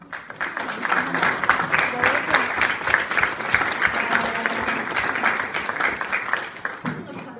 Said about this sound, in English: Maybe you all want to turn around and applaud